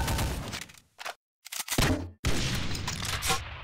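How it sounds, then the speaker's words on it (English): Rifle-launched grenades fired from an assault rifle in Brutal DooM 64, several loud bursts with thumping blasts separated by brief silent gaps, close and punchy. "you can shoot grenades from this rifle"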